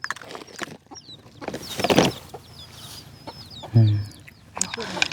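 Chickens cluck and chatter near a Thai farmyard, with short overlapping calls, one louder burst near the end and faint background noise.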